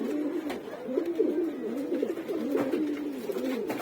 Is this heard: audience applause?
no